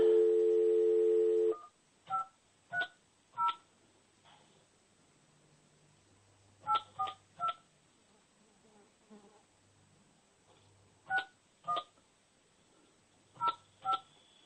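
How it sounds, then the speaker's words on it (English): A phone on speakerphone being dialed: several short bursts of two-tone dialing beeps in uneven clusters after a brief steady tone, with faint room noise between. "we're just gonna bring up the speakerphone here and call Catherine"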